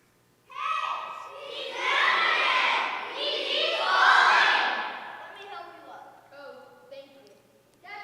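Shouting from a crowd and soldiers during a live Stations of the Cross play, loud and sustained, with several swelling waves of massed voices that fade into scattered calls near the end.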